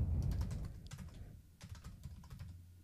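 Quiet, close keystrokes tap on a computer keyboard in a small irregular burst, faint clicks over a low room hum.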